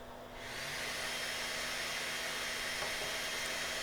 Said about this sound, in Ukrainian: Перше, вентилятор обдуву моделі, він, друзі, дуже шумний. Я вам зараз продемонструю, вмикаю.